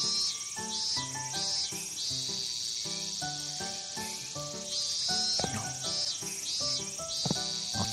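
Cicadas drone in a summer scene of the video game Double Cast, a high pulsing buzz that swells and fades in repeated waves under soft background music.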